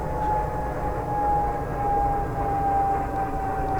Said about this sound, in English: Man, that jet's loud.